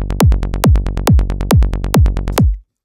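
A synthesized tech trance driving bassline loops with a punchy kick drum, about six hard, even four-on-the-floor thumps under rapid pulsing bass notes, loud and upfront, stopping cleanly after a few seconds.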